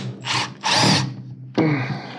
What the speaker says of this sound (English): grab our Phillips screwdriver of your choice. Mine being on an impact